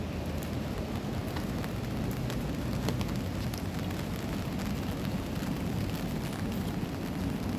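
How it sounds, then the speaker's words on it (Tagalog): Steady rain pours down outside, a dense, even hiss that runs unbroken throughout with no voices over it. "Umuulan pa naman dito"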